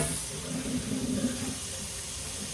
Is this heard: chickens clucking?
no